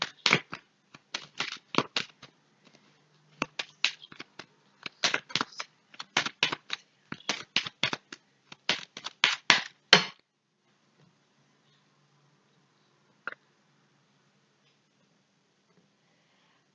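Tarot cards are shuffled in quick bursts of crisp riffling and flicking, close and dry, in repeated clusters for about ten seconds, then near silence with one final soft tap as the deck is cut.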